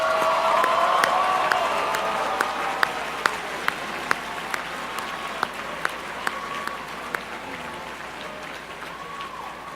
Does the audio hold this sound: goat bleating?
no